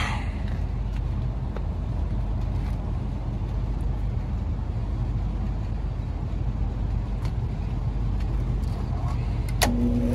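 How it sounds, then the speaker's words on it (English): A rooftop Carrier package HVAC unit's main blower motor runs with a steady, loud broadband rumble and whoosh, constant throughout with a few faint clicks and a brief tonal hum near the end. "Main blower is on."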